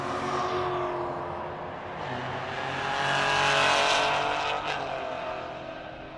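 Two drag cars launch side by side down the strip, a twin-turbo V6 Cadillac ATS-V in the left lane and a Pontiac GTO in the right, at Rocky Mountain Race Week; a loud, continuous engine roar swells and builds, with no talk.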